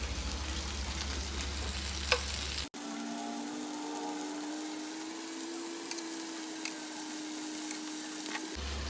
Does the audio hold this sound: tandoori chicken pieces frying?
yes